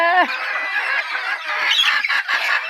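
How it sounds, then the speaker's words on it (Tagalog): A dense flock of chickens clucks and squawks continuously, a busy overlapping chatter of many birds close by. "Ang daming manok."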